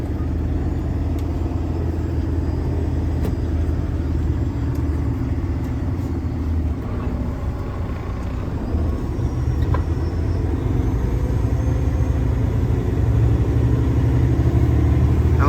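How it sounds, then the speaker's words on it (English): A commercial oilfield truck engine runs steadily from inside the cab, a loud low rumble with subtle shifts in pitch as gears change, with no voices over it. "There you go, that's shifting for you."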